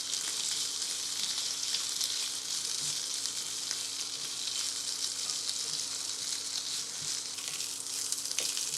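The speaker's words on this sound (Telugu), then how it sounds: "మాడిపోకుండా కరివేపాకు కొంచెం క్రిస్పీగా అయ్యే విధంగా వేయించుకోవాలి." Curry leaves fry crisply in a pan of hot oil while being stirred, giving a steady, dense sizzle and crackle that continues throughout without any talking.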